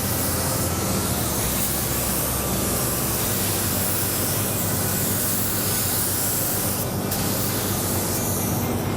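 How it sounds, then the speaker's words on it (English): Clear coat sprayed onto a car headlight at a collision repair shop, a continuous loud hiss from the spray gun running steadily throughout, with a brief change near the end. "We actually just clear coated the headlight."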